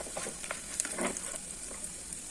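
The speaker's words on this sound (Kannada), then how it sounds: "ಇದು ನೆನೆಸಿ ಕಟ್ ಮಾಡಿರ್ತೀವಲ್ಲ, ಅದಕ್ಕಾಗಿ ಒಂದು ಸ್ವಲ್ಪ ತುಪ್ಪದಲ್ಲಿ ನಾನು ಫ್ರೈ ಮಾಡ್ಕೊತಾ ಇದ್ದೀನಿ." Soaked, chopped dry fruits fry quietly in ghee, a soft crackling sizzle with scattered sharp pops and light stirring scrapes.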